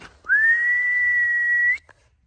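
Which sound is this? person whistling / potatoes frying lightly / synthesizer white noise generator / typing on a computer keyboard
person whistling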